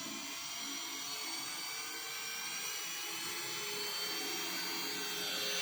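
A small electric motor in a fuel-injected motorcycle throttle body, running on 12 volts. It gives a steady, loud, high-pitched whine that holds evenly close up and swells slightly toward the end.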